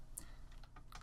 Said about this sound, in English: And then you would type